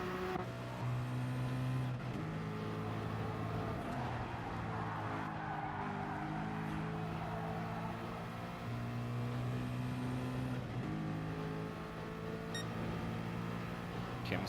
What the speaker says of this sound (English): Oh, look at this Porsche go.